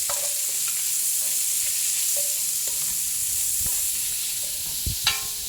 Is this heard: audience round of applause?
no